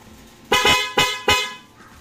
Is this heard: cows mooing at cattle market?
no